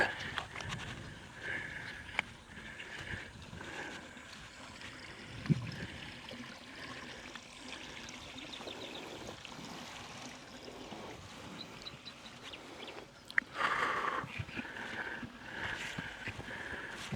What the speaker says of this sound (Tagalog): ito na yung ilog